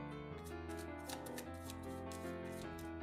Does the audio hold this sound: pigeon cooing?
no